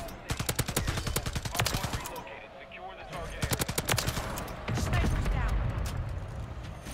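Rapid bursts of automatic gunfire from the Taq Eradicator in the video game MW3, loud and close, with rattling volleys broken by short pauses and a brief quieter gap mid-way.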